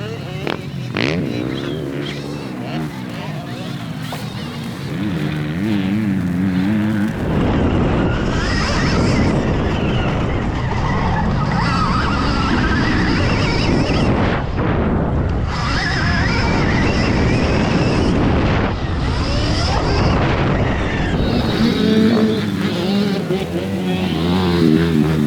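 A Stark Varg electric motocross bike ridden on a track, a quieter stretch giving way to a loud sustained rush of motor whine and wind buffeting close to the rider, rising and dipping with throttle.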